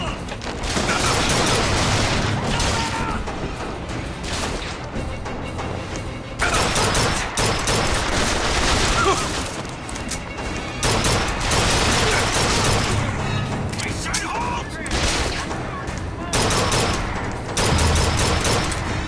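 Carbine gunfire in the video game BioShock Infinite, loud bursts of rapid shots repeating across the scene with brief lulls between volleys, mixed with other game combat noise.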